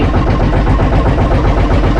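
Two fishing boat engines, a D12 and a D20, drone loudly and continuously at idle with a dense, throbbing rumble and no voices.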